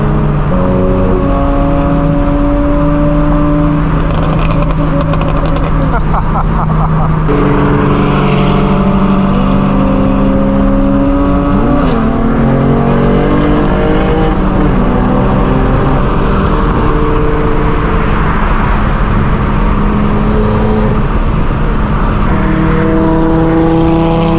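A loud Mercedes-AMG GT S engine drones steadily and climbs in pitch as it accelerates, with several rising sweeps. Nearby and continuous, with no talking.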